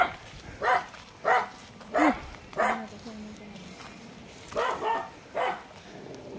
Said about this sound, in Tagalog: andyan na naman yung mga kaibigan nating aso